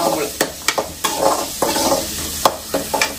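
Spinach stir-fry (keerai poriyal) sizzles in a pan while a spatula scrapes and stirs it in sharp, irregular strokes, about eight distinct clatters over a steady frying hiss, close and fairly loud.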